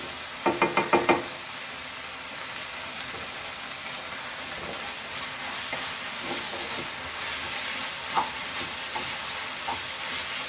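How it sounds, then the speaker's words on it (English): Beef fried rice fries on high flame in a pan, giving a steady close sizzle with a quick burst of clattering knocks at the start and a few scattered scrapes later, with no voices. "And fry it, high flame."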